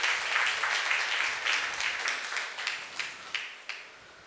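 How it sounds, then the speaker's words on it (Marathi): A church congregation claps to give thanks to God, a dense round of applause that gradually thins into a few scattered, separate claps as it fades out. "टाळ्या वाजवून देवाला धन्यवाद देऊया"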